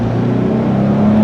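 A 2013 Jeep Wrangler Sahara engine at full throttle during an on-road 0-60 mph run, a loud steady drone with a rising tone as it accelerates, heard from inside the vehicle with no talk.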